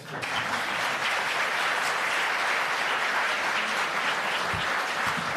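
Sustained audience applause at an evening political event on progressive governance, a dense, steady wash of clapping filling the whole stretch without pause.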